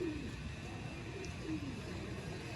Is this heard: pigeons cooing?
yes